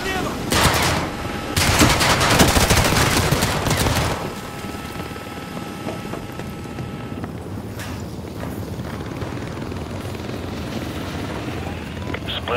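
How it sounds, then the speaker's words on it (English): A helicopter hovers in a Call of Duty Advanced Warfare battle, its rotor rumble running under heavy bursts of gunfire and explosions early on, then a steadier background drone with scattered shots. "Take down that chopper."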